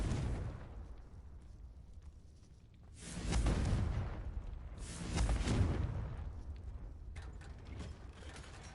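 The Confringo explosive spell in Hogwarts Legacy sets off two heavy, booming blasts a couple of seconds apart over a low mechanical rumble, with a lighter crackling burst near the end.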